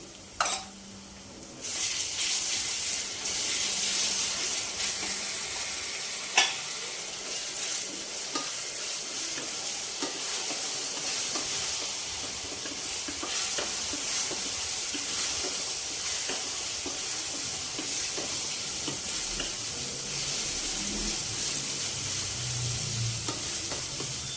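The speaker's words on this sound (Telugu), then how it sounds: "ఇప్పుడు ఇందులోకి అల్లం వెల్లుల్లి పేస్ట్ వేసుకున్నాం." Ginger garlic paste sizzles and fries with softened onions in a pan while being stirred, a steady close frying hiss with scraping stir strokes and a sharp clink near the start, no voices.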